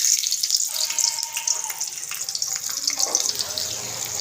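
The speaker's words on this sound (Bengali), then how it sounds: "তেল গরম হয়ে গেছে এর মধ্যে আমরা পাঁচ ফোড়ন ফোড়নে দেবো আর দেবো কটা কাঁচা লঙ্কা" Panch phoron and slit green chillies sizzle in hot fish oil for a cabbage curry, a steady bright hiss running throughout, close and fairly loud, with faint clinks and a brief murmur near the end.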